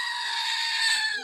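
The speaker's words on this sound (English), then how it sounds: "Everybody loves our goat." A goat gives one sustained, nasal bleat, loud and close, that wavers slightly and fades at the end.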